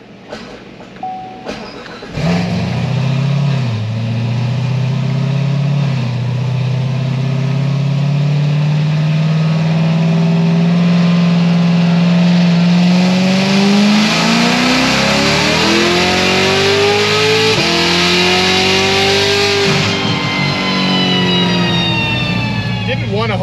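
A tuned 1000 hp Corvette C7 Z06 accelerating hard, its engine note climbing steadily through the gears with brief dips at each shift, loud and close from inside the car.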